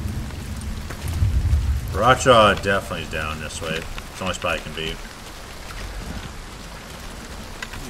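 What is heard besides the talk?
rain in a video game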